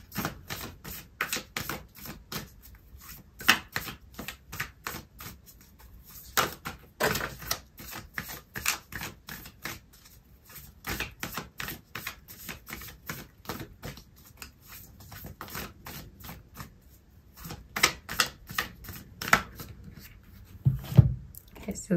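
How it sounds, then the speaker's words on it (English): Oracle cards shuffled by hand during a tarot reading, giving a long run of crisp, close clicks and flutters in irregular bursts that carry on for about twenty seconds. "Okay, so I'm going to pull out an oracle card for you"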